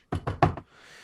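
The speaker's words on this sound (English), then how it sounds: "A knock on the door." Three firm knocks on a wooden door land in quick succession, close and loud, followed by a faint hiss of room tone.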